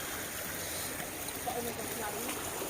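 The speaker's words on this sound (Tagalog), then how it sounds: "Ito yung bukal na tinatawag dito." Water from a mineral spring trickles and flows steadily at close range, a soft continuous burbling wash at low volume with no talk over it.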